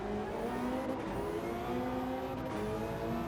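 Subaru BRZ race car in Gran Turismo 7 heard from inside, a steady engine drone with rising pitch as it accelerates, loud and continuous with no talk.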